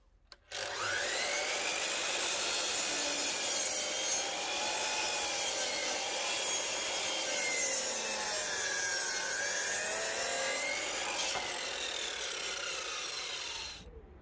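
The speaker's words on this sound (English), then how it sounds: "Right, so I cut that one along the line." A Dewalt DWS780 mitre saw cutting through a wooden pergola rail outdoors, a loud sustained whining cut that holds steady for about thirteen seconds before winding down, close and with no talking.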